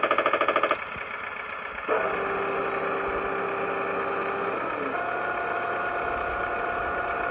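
A simulated engine sound from a Tongde M109 RC howitzer tank starts with a quick rhythmic clattering burst, then settles into a steady idling drone from a small speaker, close and alone.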